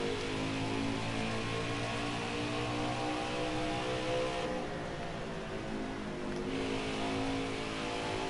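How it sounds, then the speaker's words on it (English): A NASCAR Xfinity Series race car in the NASCAR Heat 5 video game revs steadily at Iowa during qualifying, a loud sustained engine drone with shifting pitch and no talking. "Car feels fast right out of the gate by Busch."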